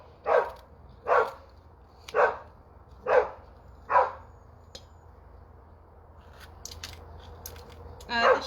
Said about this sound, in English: Grumpy dog.